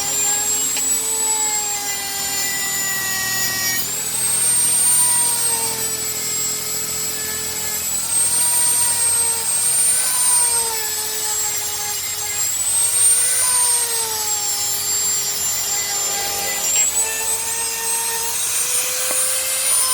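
A power tool scrapes excess weld off the side stand of a Royal Enfield Himalayan motorcycle. It gives a steady, close, high-pitched whine whose pitch dips and recovers every few seconds, with no talk throughout.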